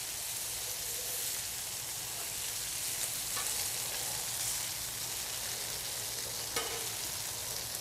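Bacon strips crackle on a Blackstone griddle in a constant, dense sizzle, close and even, with a couple of faint sharp pops.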